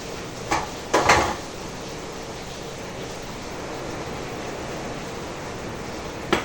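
Water pours steadily into a container for a homemade pudding in a kitchen on a rainy day. A constant rushing wash fills the clip, with a few brief clinks near the start and end.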